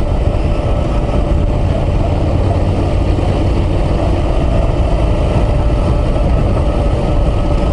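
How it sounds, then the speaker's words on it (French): Moto Guzzi V9 Roamer with a pushrod engine running on the road, a steady loud rumble with engine braking under constant wind and road noise, with no talk. "J'aime bien ce bruit là, du moteur culbuté."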